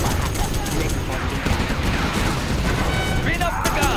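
Continuous minigun fire from Red Guard-style infantry in the C&C Generals Zero Hour strategy game, a dense, loud battle roar of rapid shots and blasts running for the whole stretch, mixed with game voices.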